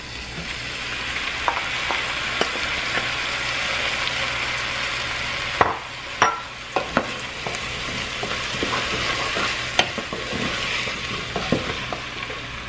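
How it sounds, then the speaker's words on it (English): Steady sizzling of corn and other ingredients frying in a soup pot for smoked turkey kielbasa and potato soup, with close, intermittent clacks and scrapes of a spoon stirring throughout. "And I'm going to stir and cook it for about 3 minutes."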